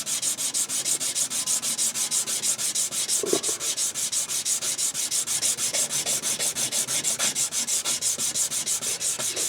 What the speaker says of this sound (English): I'm just going to sand this baby down